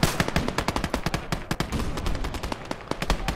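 A DShK heavy machine gun fires in a video game: rapid, sustained bursts of sharp, loud shots with a fast, slightly uneven rhythm across the whole stretch, close and dominant.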